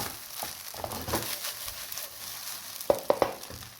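Rice fries with a steady crackle and sizzle in a hot pan over a high flame, with a few sharper crackling pops near the end.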